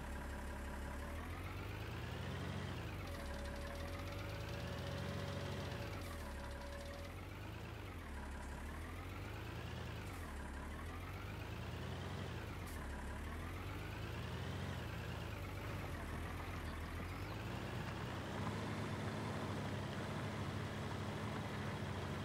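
A tractor engine runs in the Farming Simulator 2019 video game, a steady, continuous drone whose pitch rises and falls in repeated waves as the revs change, with no talking.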